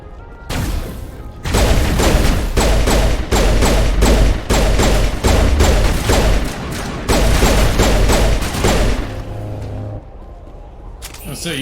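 Gunfire in the video game Mass Effect 1: long loud bursts of rapid shots broken by short pauses, ending in a quieter stretch.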